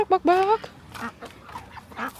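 Several ducks quack in a quick burst on a farm in Bali, followed by softer quacks and murmuring nearby.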